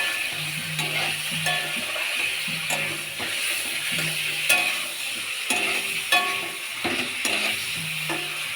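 Chicken pieces fry with a ground paste of cumin, ginger, onion, garlic, chilli, turmeric and salt, giving a steady close sizzle broken by repeated scraping stirs and clinks of a spoon against the pan.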